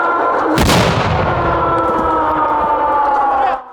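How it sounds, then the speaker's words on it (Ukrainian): A single loud explosion bursts out early on a military psychological obstacle course, over a sustained wailing siren-like tone that continues until it cuts off. "поруч може пролунати і цілком реальний вибух"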